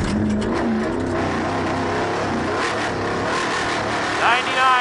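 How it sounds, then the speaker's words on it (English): A Ford Raptor runs at full throttle in fourth gear across a dry lake bed, its engine a steady loud roar beneath someone talking, with a rising whine near the end. "So I threw the thing in fourth gear and just hit the throttle"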